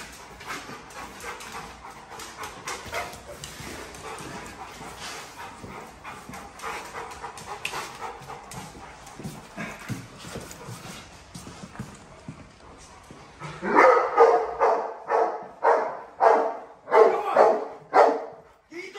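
A police dog in hold-and-bark intruder containment training, with low panting and shuffling through most of the stretch, then loud repeated barks bursting out near the end, close by.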